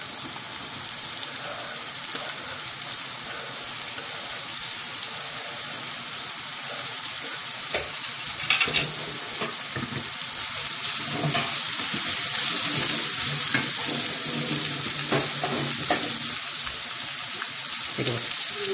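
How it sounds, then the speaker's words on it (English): Chopped onion sizzles and crackles steadily in a hot pan for a bolognese with Dolmio sauce, a continuous bright frying hiss with occasional stirring clatter and faint water sounds, no talk. "chopped onion going in"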